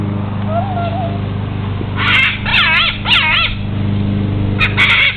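A bird gives several short, warbling calls in quick bursts, fairly close, over a steady low hum, while a person coaxes it in Spanish.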